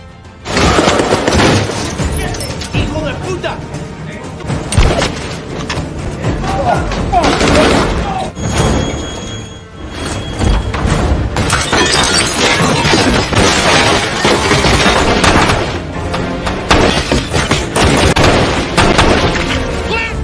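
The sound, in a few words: gunfire from a room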